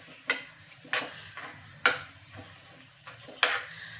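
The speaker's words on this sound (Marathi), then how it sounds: "तर हे मिक्स करून घ्यायचं" A spoon stirs ghee into a semolina, moong dal and jaggery halwa, giving four or five distinct scraping strokes against the pan at a slow, steady rhythm over a faint background sizzle.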